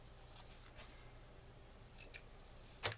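Scissors snipping ribbon at an angle while trimming it on a St Patrick's Day card, heard as a single quiet snip near the end over faint background hiss.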